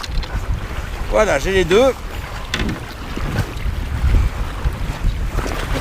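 Strong wind buffets the microphone on a summer Greenland polar expedition, a loud continuous roar with gusts, while a person speaks briefly.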